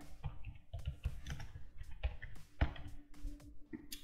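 Computer keyboard typing while writing Java code in an IDE, quiet close clicks in uneven bursts and single taps.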